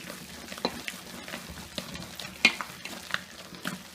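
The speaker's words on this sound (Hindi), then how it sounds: "इस तरह से लगातार 5 मिनट तक दाल को फेंटें।" Soaked urad dal batter is beaten by hand in a deep bowl, making soft, wet slapping and squelching strokes in a steady irregular rhythm. The sound is close and quiet, with no voices.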